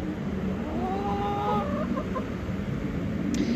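Chickens in a coop give soft clucks and a short trilling call at moderate distance, with a steady fan hum running underneath.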